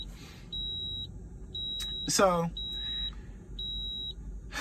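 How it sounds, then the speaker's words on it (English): Steady high-pitched electronic beeps from a truck's tire pressure monitor signalling low tire pressure repeat at an even pace, each held about half a second, while someone briefly speaks over them. "this thing goes off and it beeps like this constantly when the tire pressure gets low"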